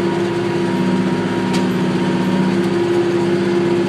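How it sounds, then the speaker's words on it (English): Steady, even drone of a Yanmar diesel engine idling in a McCormick tractor, with a slight pulsing texture, a couple of faint clicks and no speech over it. "It has the Yanmar diesel engine, which are on most John Deere tractors."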